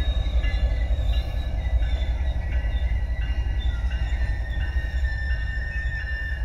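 A locomotive damaged in a train accident near San Isidro Mazatepec rolls steadily along the rails, a loud continuous rumble with high metallic wheel squeals and rhythmic clicks, close by and without speech.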